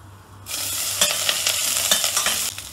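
Hot oil bursts into a loud, crackling sizzle after a brief quiet start as cashews and green chillies are added, with scraping stir sounds running through it.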